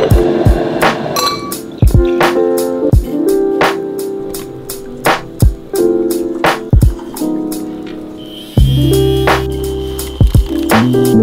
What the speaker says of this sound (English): Is it weird making coffee in a pint glass?